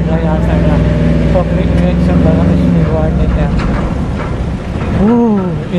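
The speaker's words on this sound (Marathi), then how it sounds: "गाडीचा आवाज असेल" A vehicle engine drones steadily while driving on a road, with a low, close, continuous hum and a voice briefly audible over it.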